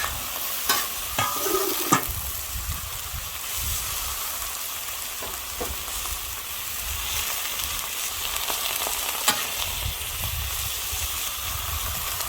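Softening onions fry in a pan with a continuous close sizzle and hiss, while occasional scraping and knocking stir strokes cut through at a few points.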